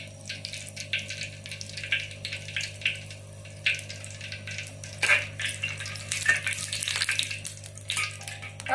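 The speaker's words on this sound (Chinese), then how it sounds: "把油炸香一下。" Sichuan peppercorns frying in hot oil in a heated wok, a faint crackling sizzle with scattered pops and bursts over a low steady hum.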